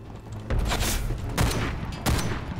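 Gunfire and explosions in the online shooter Ghost in the Shell: First Assault, bursts of shots and booming blasts in several loud clusters across a few seconds, with no talk over them.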